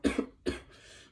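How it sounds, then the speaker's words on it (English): Two quick, harsh coughs close to the mic, the first a double burst, followed by a short pause and faint breathy noise. "talking a lot makes me cough"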